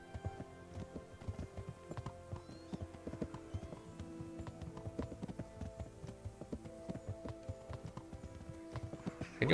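Horse hooves clip-clop steadily on a road in Kingdom Come: Deliverance, a continuous quick rhythmic patter of a riding horse under faint background music.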